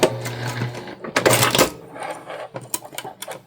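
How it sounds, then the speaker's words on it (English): A sewing machine backstitches through fabric on a holiday sewing project, giving short, close mechanical bursts of stitching with brief pauses between them. "I'm going to backstitch here"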